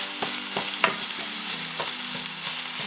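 Ground turkey frying in a pan over lowered heat, a soft steady sizzle with several scraping spatula strokes and one sharper clack, close and without voices.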